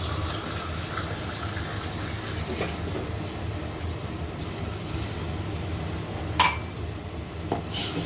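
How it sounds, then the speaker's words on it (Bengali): Water pours into a pot of country chicken curry after the meat has been fried in spices, a steady close gushing fill with a faint clink of cookware near the end. "আমরা এখন কষানোর পানি দিব।"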